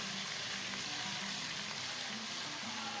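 Ginger garlic paste frying with onions in a hot pan, a steady dense sizzle running throughout at close range, with no voices.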